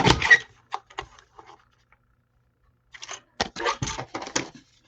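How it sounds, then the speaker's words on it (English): A paper trimmer trims card edges for a stamped card, with two bursts of sharp blade swishes and clicks close up, divided by a quiet pause. "I'm just trimming the edges."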